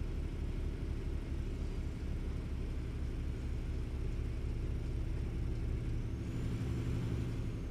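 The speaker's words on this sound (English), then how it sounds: "I really like the sound of the engine brake on this truck." Deep, steady engine-brake rumble from a truck in Euro Truck Simulator 2, a continuous bassy drone held at constant loudness with no talk over it, shifting slightly in tone near the end.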